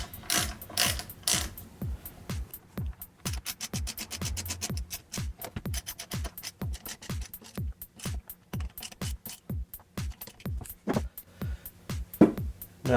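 A hand ratchet clicks in rapid, steady bursts while tightening bolts on a Mazda RX-7, the close mechanical pawl ticks repeating for many seconds with short pauses between strokes.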